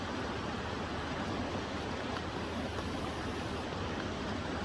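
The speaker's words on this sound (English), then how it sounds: "Listen to the roaring river." Roaring river beside a tree outdoors, a dense, steady broadband rush of water that stays loud and unchanging throughout, with no talking.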